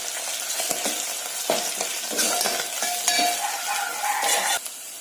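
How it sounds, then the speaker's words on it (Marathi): Curry leaves sauté with softened onion and tomato in a hot pan, a close, bright sizzle broken by quick stirring scrapes and clinks of the spoon against the pan. "मी थोडासा कढीपत्ता टाकते, तो पण थोडा 1-2 मिनिटं असा परतून घ्यायचा आहे"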